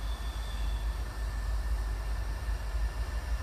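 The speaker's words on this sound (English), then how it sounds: "Here comes a train through the woods." A distant train passing through woods rumbles steadily with a low continuous roar and faint tonal hum, heard from afar without voices.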